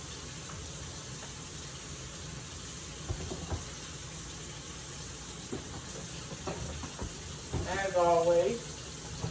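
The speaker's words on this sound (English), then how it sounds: "ladies, we want to start our dishwater." Tap water runs into a kitchen sink to fill it for dishwater, a steady hissing rush heard beneath a voice, with clinks and small splashes mixed in.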